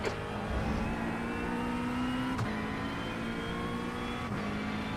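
A McLaren 720S race car in iRacing runs hard during an endurance race at Donington, its engine a loud, continuous drone with shifting pitch as it accelerates and holds speed.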